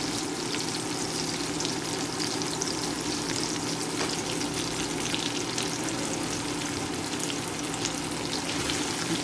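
Pork frying in a pan with tomato and red onion gives off a steady, even sizzle that crackles continuously without pause, moderately close with no talking.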